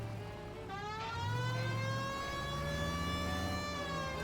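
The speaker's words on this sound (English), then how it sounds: "We might get there quicker if you use the siren." Police car siren in the video game L.A. Noire, a wailing tone rising and falling in sweeps, moderately loud over a low engine rumble, with no talking.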